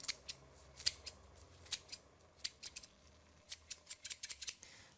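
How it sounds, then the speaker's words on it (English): Scissors snip through lime leaves in a kitchen, giving a series of crisp, quiet cuts in irregular bursts, some in quick pairs and clusters, heard close with no talking. "Lime leaves, just snip them in."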